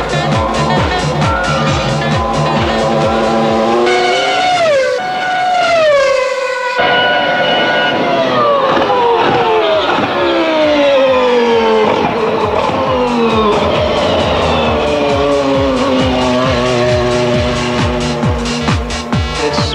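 A 1999 McLaren MP4/14 Formula One car on a straight-line aero test at Santa Pod, its engine loud and near, revving hard through rising and falling gear sweeps across the whole stretch with a brief lift mid-run.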